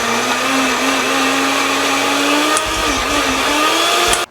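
A kitchen blender grinds boiled potatoes with a little water for potato porridge, a loud, steady whirring motor drone that runs continuously, dips briefly partway through, then cuts off at the end.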